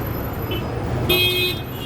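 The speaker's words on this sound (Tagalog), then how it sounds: "Traffic doon, traffic dito. Kahaba-haba ng traffic, oh." Road traffic in Kuwait at Christmas: a steady low rumble of cars, with a short horn toot near the middle rising over the background, moderately close.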